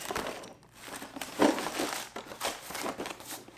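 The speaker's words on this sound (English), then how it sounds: "let me put some brown paper in there" Brown paper crinkles and rustles in repeated bursts, close by, as it is scrunched up and pushed into a box to fill it.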